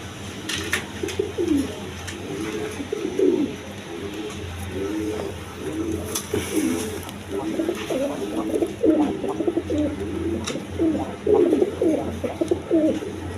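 Red Jacobin pigeons coo in a steady low rumbling series, close and continuous over a faint background hum, with no voices.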